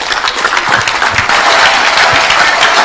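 A church congregation claps for Jesus Christ, a dense, steady wash of many hands that stays loud and continuous throughout, with no speech over it.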